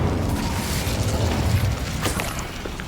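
Fire spell effect in the Hogwarts Legacy video game: a low rumbling burst with crackling texture, sustained and fairly loud, fading slightly toward the end.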